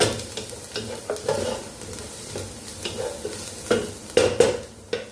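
A small splash of cooking oil goes into a hot pan and sizzles softly, with light scraping and stirring and a few sharper clinks of a utensil against the pan toward the end.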